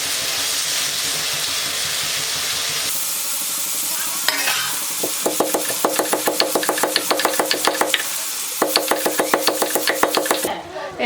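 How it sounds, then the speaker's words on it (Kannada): Garlic and coriander pounded in a mortar, a steady run of sharp rhythmic thuds repeating in bursts over a continuous background hiss, with no voices. "ಬೆಳ್ಳುಳ್ಳಿ ಮತ್ತು ಕೊತ್ತಂಬರಿನ ಈ ಕುಟ್ಟನಾಗ ಹಾಕಿ ಕುಟ್ಟಕ್ಕೆ ನೋಡಿ"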